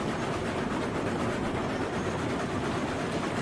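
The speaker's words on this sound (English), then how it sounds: "This old man's a little old to be jumping around a moving locomotive" Steam locomotive rolling along in the RailRoads Online video game, a steady dense rumble with a faint rhythmic clatter running throughout, loud and continuous with no talk.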